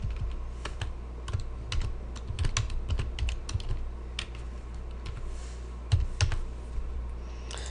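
Quick, irregular clicks of a computer keyboard being typed on close by, steady bursts of keystrokes with a few louder taps and no talking.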